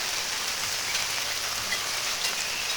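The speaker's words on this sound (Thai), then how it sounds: "ทั้งฝนตกอยู่บ่เนาะ" Steady rain pattering on a surface, an even hiss of drops with no voices.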